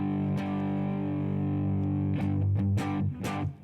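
A jazz guitar run through a distortion effect sustains a thick, buzzing chord for a few seconds, followed by several sharp re-strummed chord hits near the end, loud and close.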